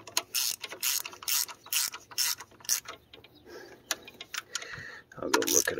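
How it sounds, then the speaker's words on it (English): A ratchet clicks in quick, repeated bursts as it tightens the thermostat housing bolts on a Ford 7.3 Powerstroke diesel engine, close and sharp, with a person talking between the bursts. "Get them all finger tight first. Torque them to spec."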